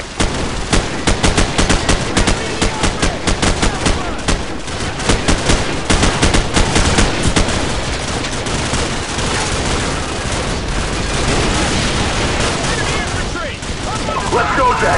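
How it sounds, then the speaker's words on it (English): Dense, sustained automatic and rapid gunfire from a Call of Duty 4: Modern Warfare firefight, loud bursts and shots piling over one another for the whole stretch, with shouted voices mixed into the battle din. "Bravo, give us covering fire."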